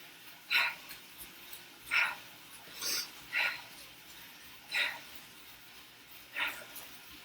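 Heavy, rhythmic breathing during bike interval training, about six loud exhalations spaced roughly one to one and a half seconds apart, close to the microphone with no talk.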